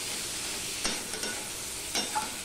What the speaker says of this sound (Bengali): এবার সম্পূর্ণটা দেখো মশলার সাথে কষিয়ে নিলাম